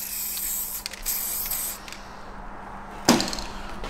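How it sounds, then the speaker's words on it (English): Aerosol copper grease sprays in bursts of steady hissing, with short pauses between them, while working on a MINI. A sharper clack of handling follows near the end, with no talk over it. "you've always got to have aerosol copper grease"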